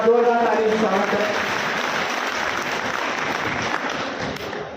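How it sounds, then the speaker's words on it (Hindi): Crowd at a tribal day community gathering claps loudly to welcome a guest, dense applause that starts strong and eases slightly, with a voice heard briefly at the start. "हमारे जोरदार तालियों से स्वागत करें।"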